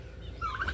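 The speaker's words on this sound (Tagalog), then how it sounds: "At ito yung ating mga pabo, nakikisaw-saw din dito, nakikikain din." Turkeys on a farm gobble briefly while feeding on silage alongside goats, one short rapid gobble call over low background noise.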